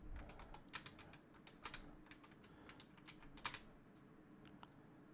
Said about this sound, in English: I should just finish typing